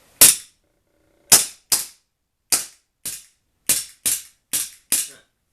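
An APS ACP Glock airsoft pistol converted from CO2 to green gas fires nine sharp, separate shots at irregular intervals. Each crack is close, clean and short against silence, with no talking.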